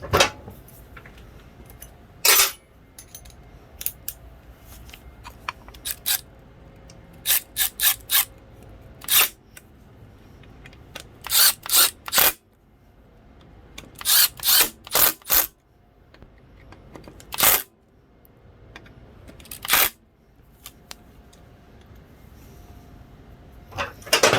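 A screw gun drives screws while reassembling the clutch of a Kawasaki KE100 motorcycle, with short sharp whirring bursts repeating irregularly over about twenty seconds, close and loud against a quiet workshop background.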